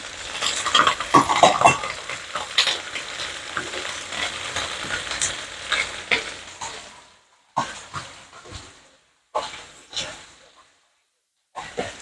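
Chicken wings and mushrooms fry in a pan with a loud, crackling sizzle and stirring scrapes. The sound fades and then returns in short bursts as the food is stirred.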